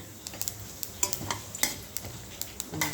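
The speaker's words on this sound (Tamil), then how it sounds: "வெள்ளை உளுந்து முழு உளுந்தும் இதில் சேர்த்துக்கிட்டோம் இதையும் இந்த எண்ணெயில் வறுத்துக்கிறோமே" Whole white urad dal frying in hot oil while being stirred, a soft sizzle under a scatter of sharp ticks and spoon clinks against the pan, close and with no talking.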